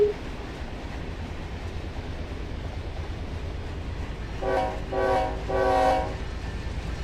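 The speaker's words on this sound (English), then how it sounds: "Frank sounds his horn and rings the bell because we've got a crewman on the ground observing his train running by." Locomotive horn from the Run 8 train simulator game, three short blasts near the end over a steady low rumble of a running train, with a bell implied alongside.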